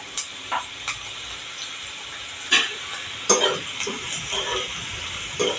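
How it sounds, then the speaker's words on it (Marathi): Soft, steady sizzling of garlic sautéing in a pan, with a few spoon scrapes and stirring clicks scattered through, fairly quiet. "अशी चांगली लसूण मी परतून घेणार आहे"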